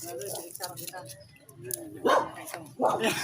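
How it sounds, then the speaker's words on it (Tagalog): A dog barks angrily at passersby along a rural path in Sisiman, Mariveles, Bataan, two loud bursts standing out near the end, with people talking throughout. "Oh, tinatawag kami ng aso. Ayan, nagagalit."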